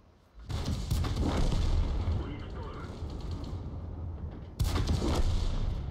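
A tank fires high-explosive shells on a World of Tanks training range, with two loud, heavy cannon blasts a few seconds apart, each followed by a rolling rumble, and a voice speaking faintly in between.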